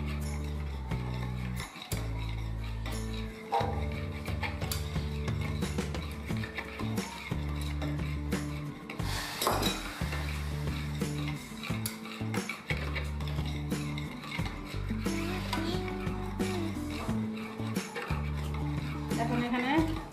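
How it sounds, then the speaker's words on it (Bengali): Carrot paste is stirred into beaten eggs in a bowl for a carrot pudding, giving repeated clinks and scrapes of a utensil against the bowl beneath steady background music. "এক কাপ গাজর বাটা বা পেস্ট যাই বলেন দিয়ে মিশিয়ে নিচ্ছি ডিমের সাথে"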